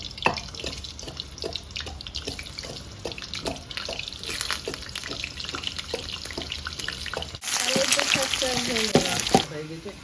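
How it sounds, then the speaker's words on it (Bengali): Potatoes frying in a pan during village-style home cooking, with a steady crackling sizzle that swells into a louder, hissing burst near the end. "বন্ধুরা আগে আলুটা ভেজে দেবো"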